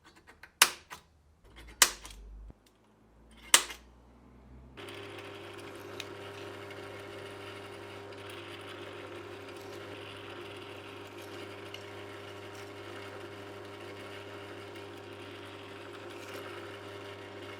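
A drill bores holes to mount a fuse box on a BMW R1150GS motorcycle, starting with a few sharp clicks and short bursts, then settling into a steady whirring hum that runs on at moderate level with no talking.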